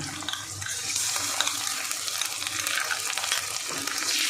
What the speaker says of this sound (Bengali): 1 চামচ রসুন বাটা আর 1 চামচ আদা বাটা দিয়ে আবার সুন্দর করে কষাবো